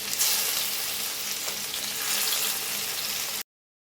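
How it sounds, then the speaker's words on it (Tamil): Marinated fish frying in a pan, giving a steady, close hiss of sizzling oil with faint crackle that runs evenly before cutting off abruptly. "அந்த மீனை நம்ம வறுத்துக்கலாம்."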